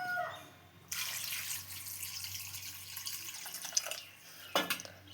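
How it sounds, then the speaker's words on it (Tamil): Water is poured and splashed over raw chicken pieces in a kitchen for washing, a steady faint gush with a few sharper splashes and drips near the end. "தண்ணி ஊற்றி"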